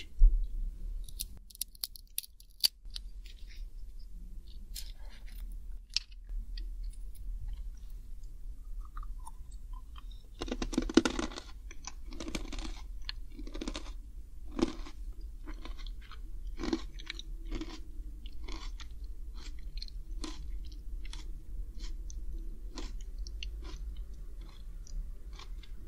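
Close, crisp crunching of snacks being bitten and chewed, quiet at first, then a run of repeated bites that settles into a rhythm of crunches with short gaps between them.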